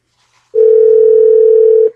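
A loud, steady telephone dial tone sounds for well over a second before a call is made, clean and close, with no voices.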